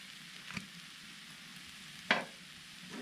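Clams frying in hot coconut oil in a pan, a soft steady sizzle at low level with a couple of brief sharper spits and clinks, nobody speaking.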